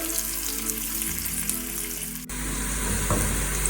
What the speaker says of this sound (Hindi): तो प्याज़ों को हम लाइट ब्राउन करते हैं,